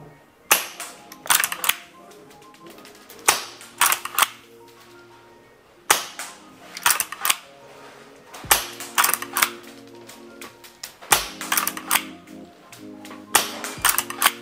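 A G&G LEV AR7 gas blowback airsoft rifle fires at 150 PSI, giving sharp snapping shots in short bursts and singles with mechanical clacks of the bolt. The cracks are loud and close, with pauses between strings of shots.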